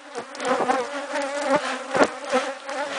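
Honey bees buzzing around a honey stall at Palmeira: a steady, close swarm drone with individual insects swelling louder as they fly past, and no voices.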